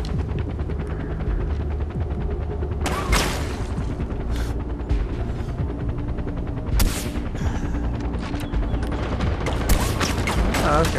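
Gunfire in the video game Far Cry 4, aimed at helicopter pilots: a steady stream of shots under a constant background din, with a few sharper, louder bursts standing out at intervals.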